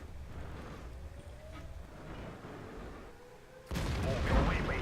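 Tank cannon fire between a KV-3 and a WZ-111 in World of Tanks: a muffled battle rumble, then one loud, close cannon blast near the end that rolls on into a long heavy boom.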